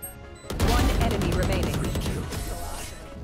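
Rapid bursts of gunfire from a Valorant match, several loud close shots in quick succession with dense game sound around them.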